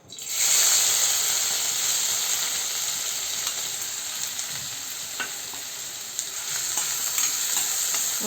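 Onion frying in a little oil in a pan for a sprouts chaat, a loud steady sizzle and hiss that starts abruptly and holds through, with occasional faint stirring clicks.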